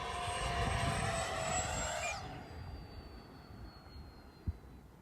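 An FMS Integral 80mm RC jet roars past with a loud, high whine that drops sharply in pitch as it goes by, then fades into a fainter, distant hum.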